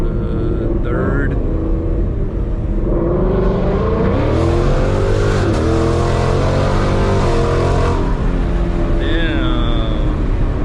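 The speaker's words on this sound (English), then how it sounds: "Let's go ahead and do a little pull right here." A 2018 Mustang GT Performance Package accelerating hard and shifting into third, its engine loud and continuous with rising, sweeping tones throughout, while a voice speaks briefly over it.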